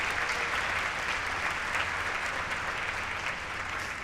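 Steady applause from a crowd at a dual enrollment recognition ceremony, sustained and even throughout, dense and moderately distant with no break.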